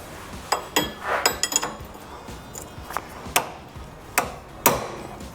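Hammer whacks knocking a rusty tapered ball joint loose from a steering arm on a heavily corroded Range Rover Classic axle, several sharp metallic strikes at irregular intervals, close and fairly loud.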